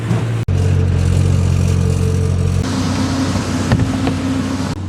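A steady, rumbling tractor engine runs throughout during tillage, its low drone shifting pitch partway through as the motor works a little harder.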